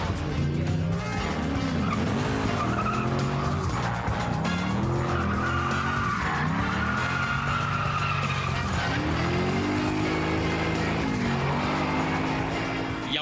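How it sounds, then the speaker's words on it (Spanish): Cars in a Kingsman-style movie chase, with engines roaring and tires skidding and squealing through sweeping turns, loud and continuous over a dense soundtrack for the whole stretch. "Sobrevivir una persecución de autos al estilo Kingsman."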